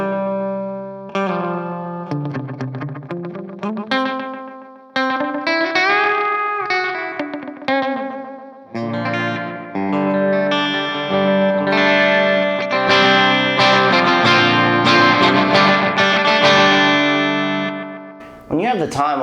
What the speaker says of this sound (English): When you have the time all the way down and repeat all the way up, it kind of acts sort of like a reverb, honestly.